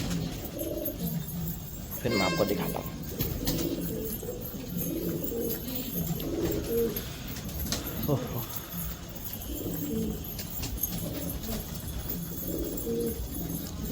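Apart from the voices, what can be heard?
pigeons cooing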